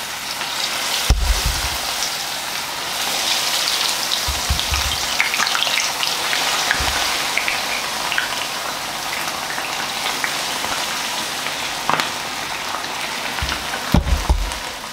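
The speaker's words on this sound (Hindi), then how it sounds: "यो लेग पीस फ्राई होना चाहिए" Chicken leg pieces and wings crackle in hot oil in an iron pan, a steady dense sizzle with a few louder bursts and thumps as pieces are handled; nobody speaks.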